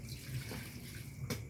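Papaya leaves washed in water, a soft close splashing and sloshing with a brief sharper splash near the end, quiet and without talk.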